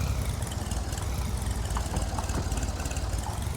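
A tractor engine idles steadily nearby, a low, even, knocking rumble that holds constant throughout with no voices.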